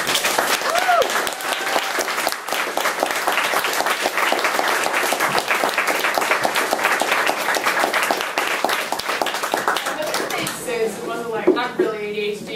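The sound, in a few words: audience applause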